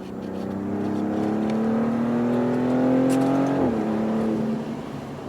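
A 2024 Maserati GranTurismo Trofeo engine drones at speed, its pitch climbing steadily before a brief drop as it shifts, then settling again.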